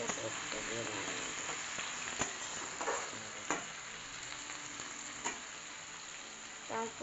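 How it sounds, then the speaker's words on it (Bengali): Pointed gourd and potato pieces fry in a pan to brown, giving a steady close sizzle with scattered utensil clicks and scraping from stirring throughout. "ওটাকে লাল করে ভাজবো"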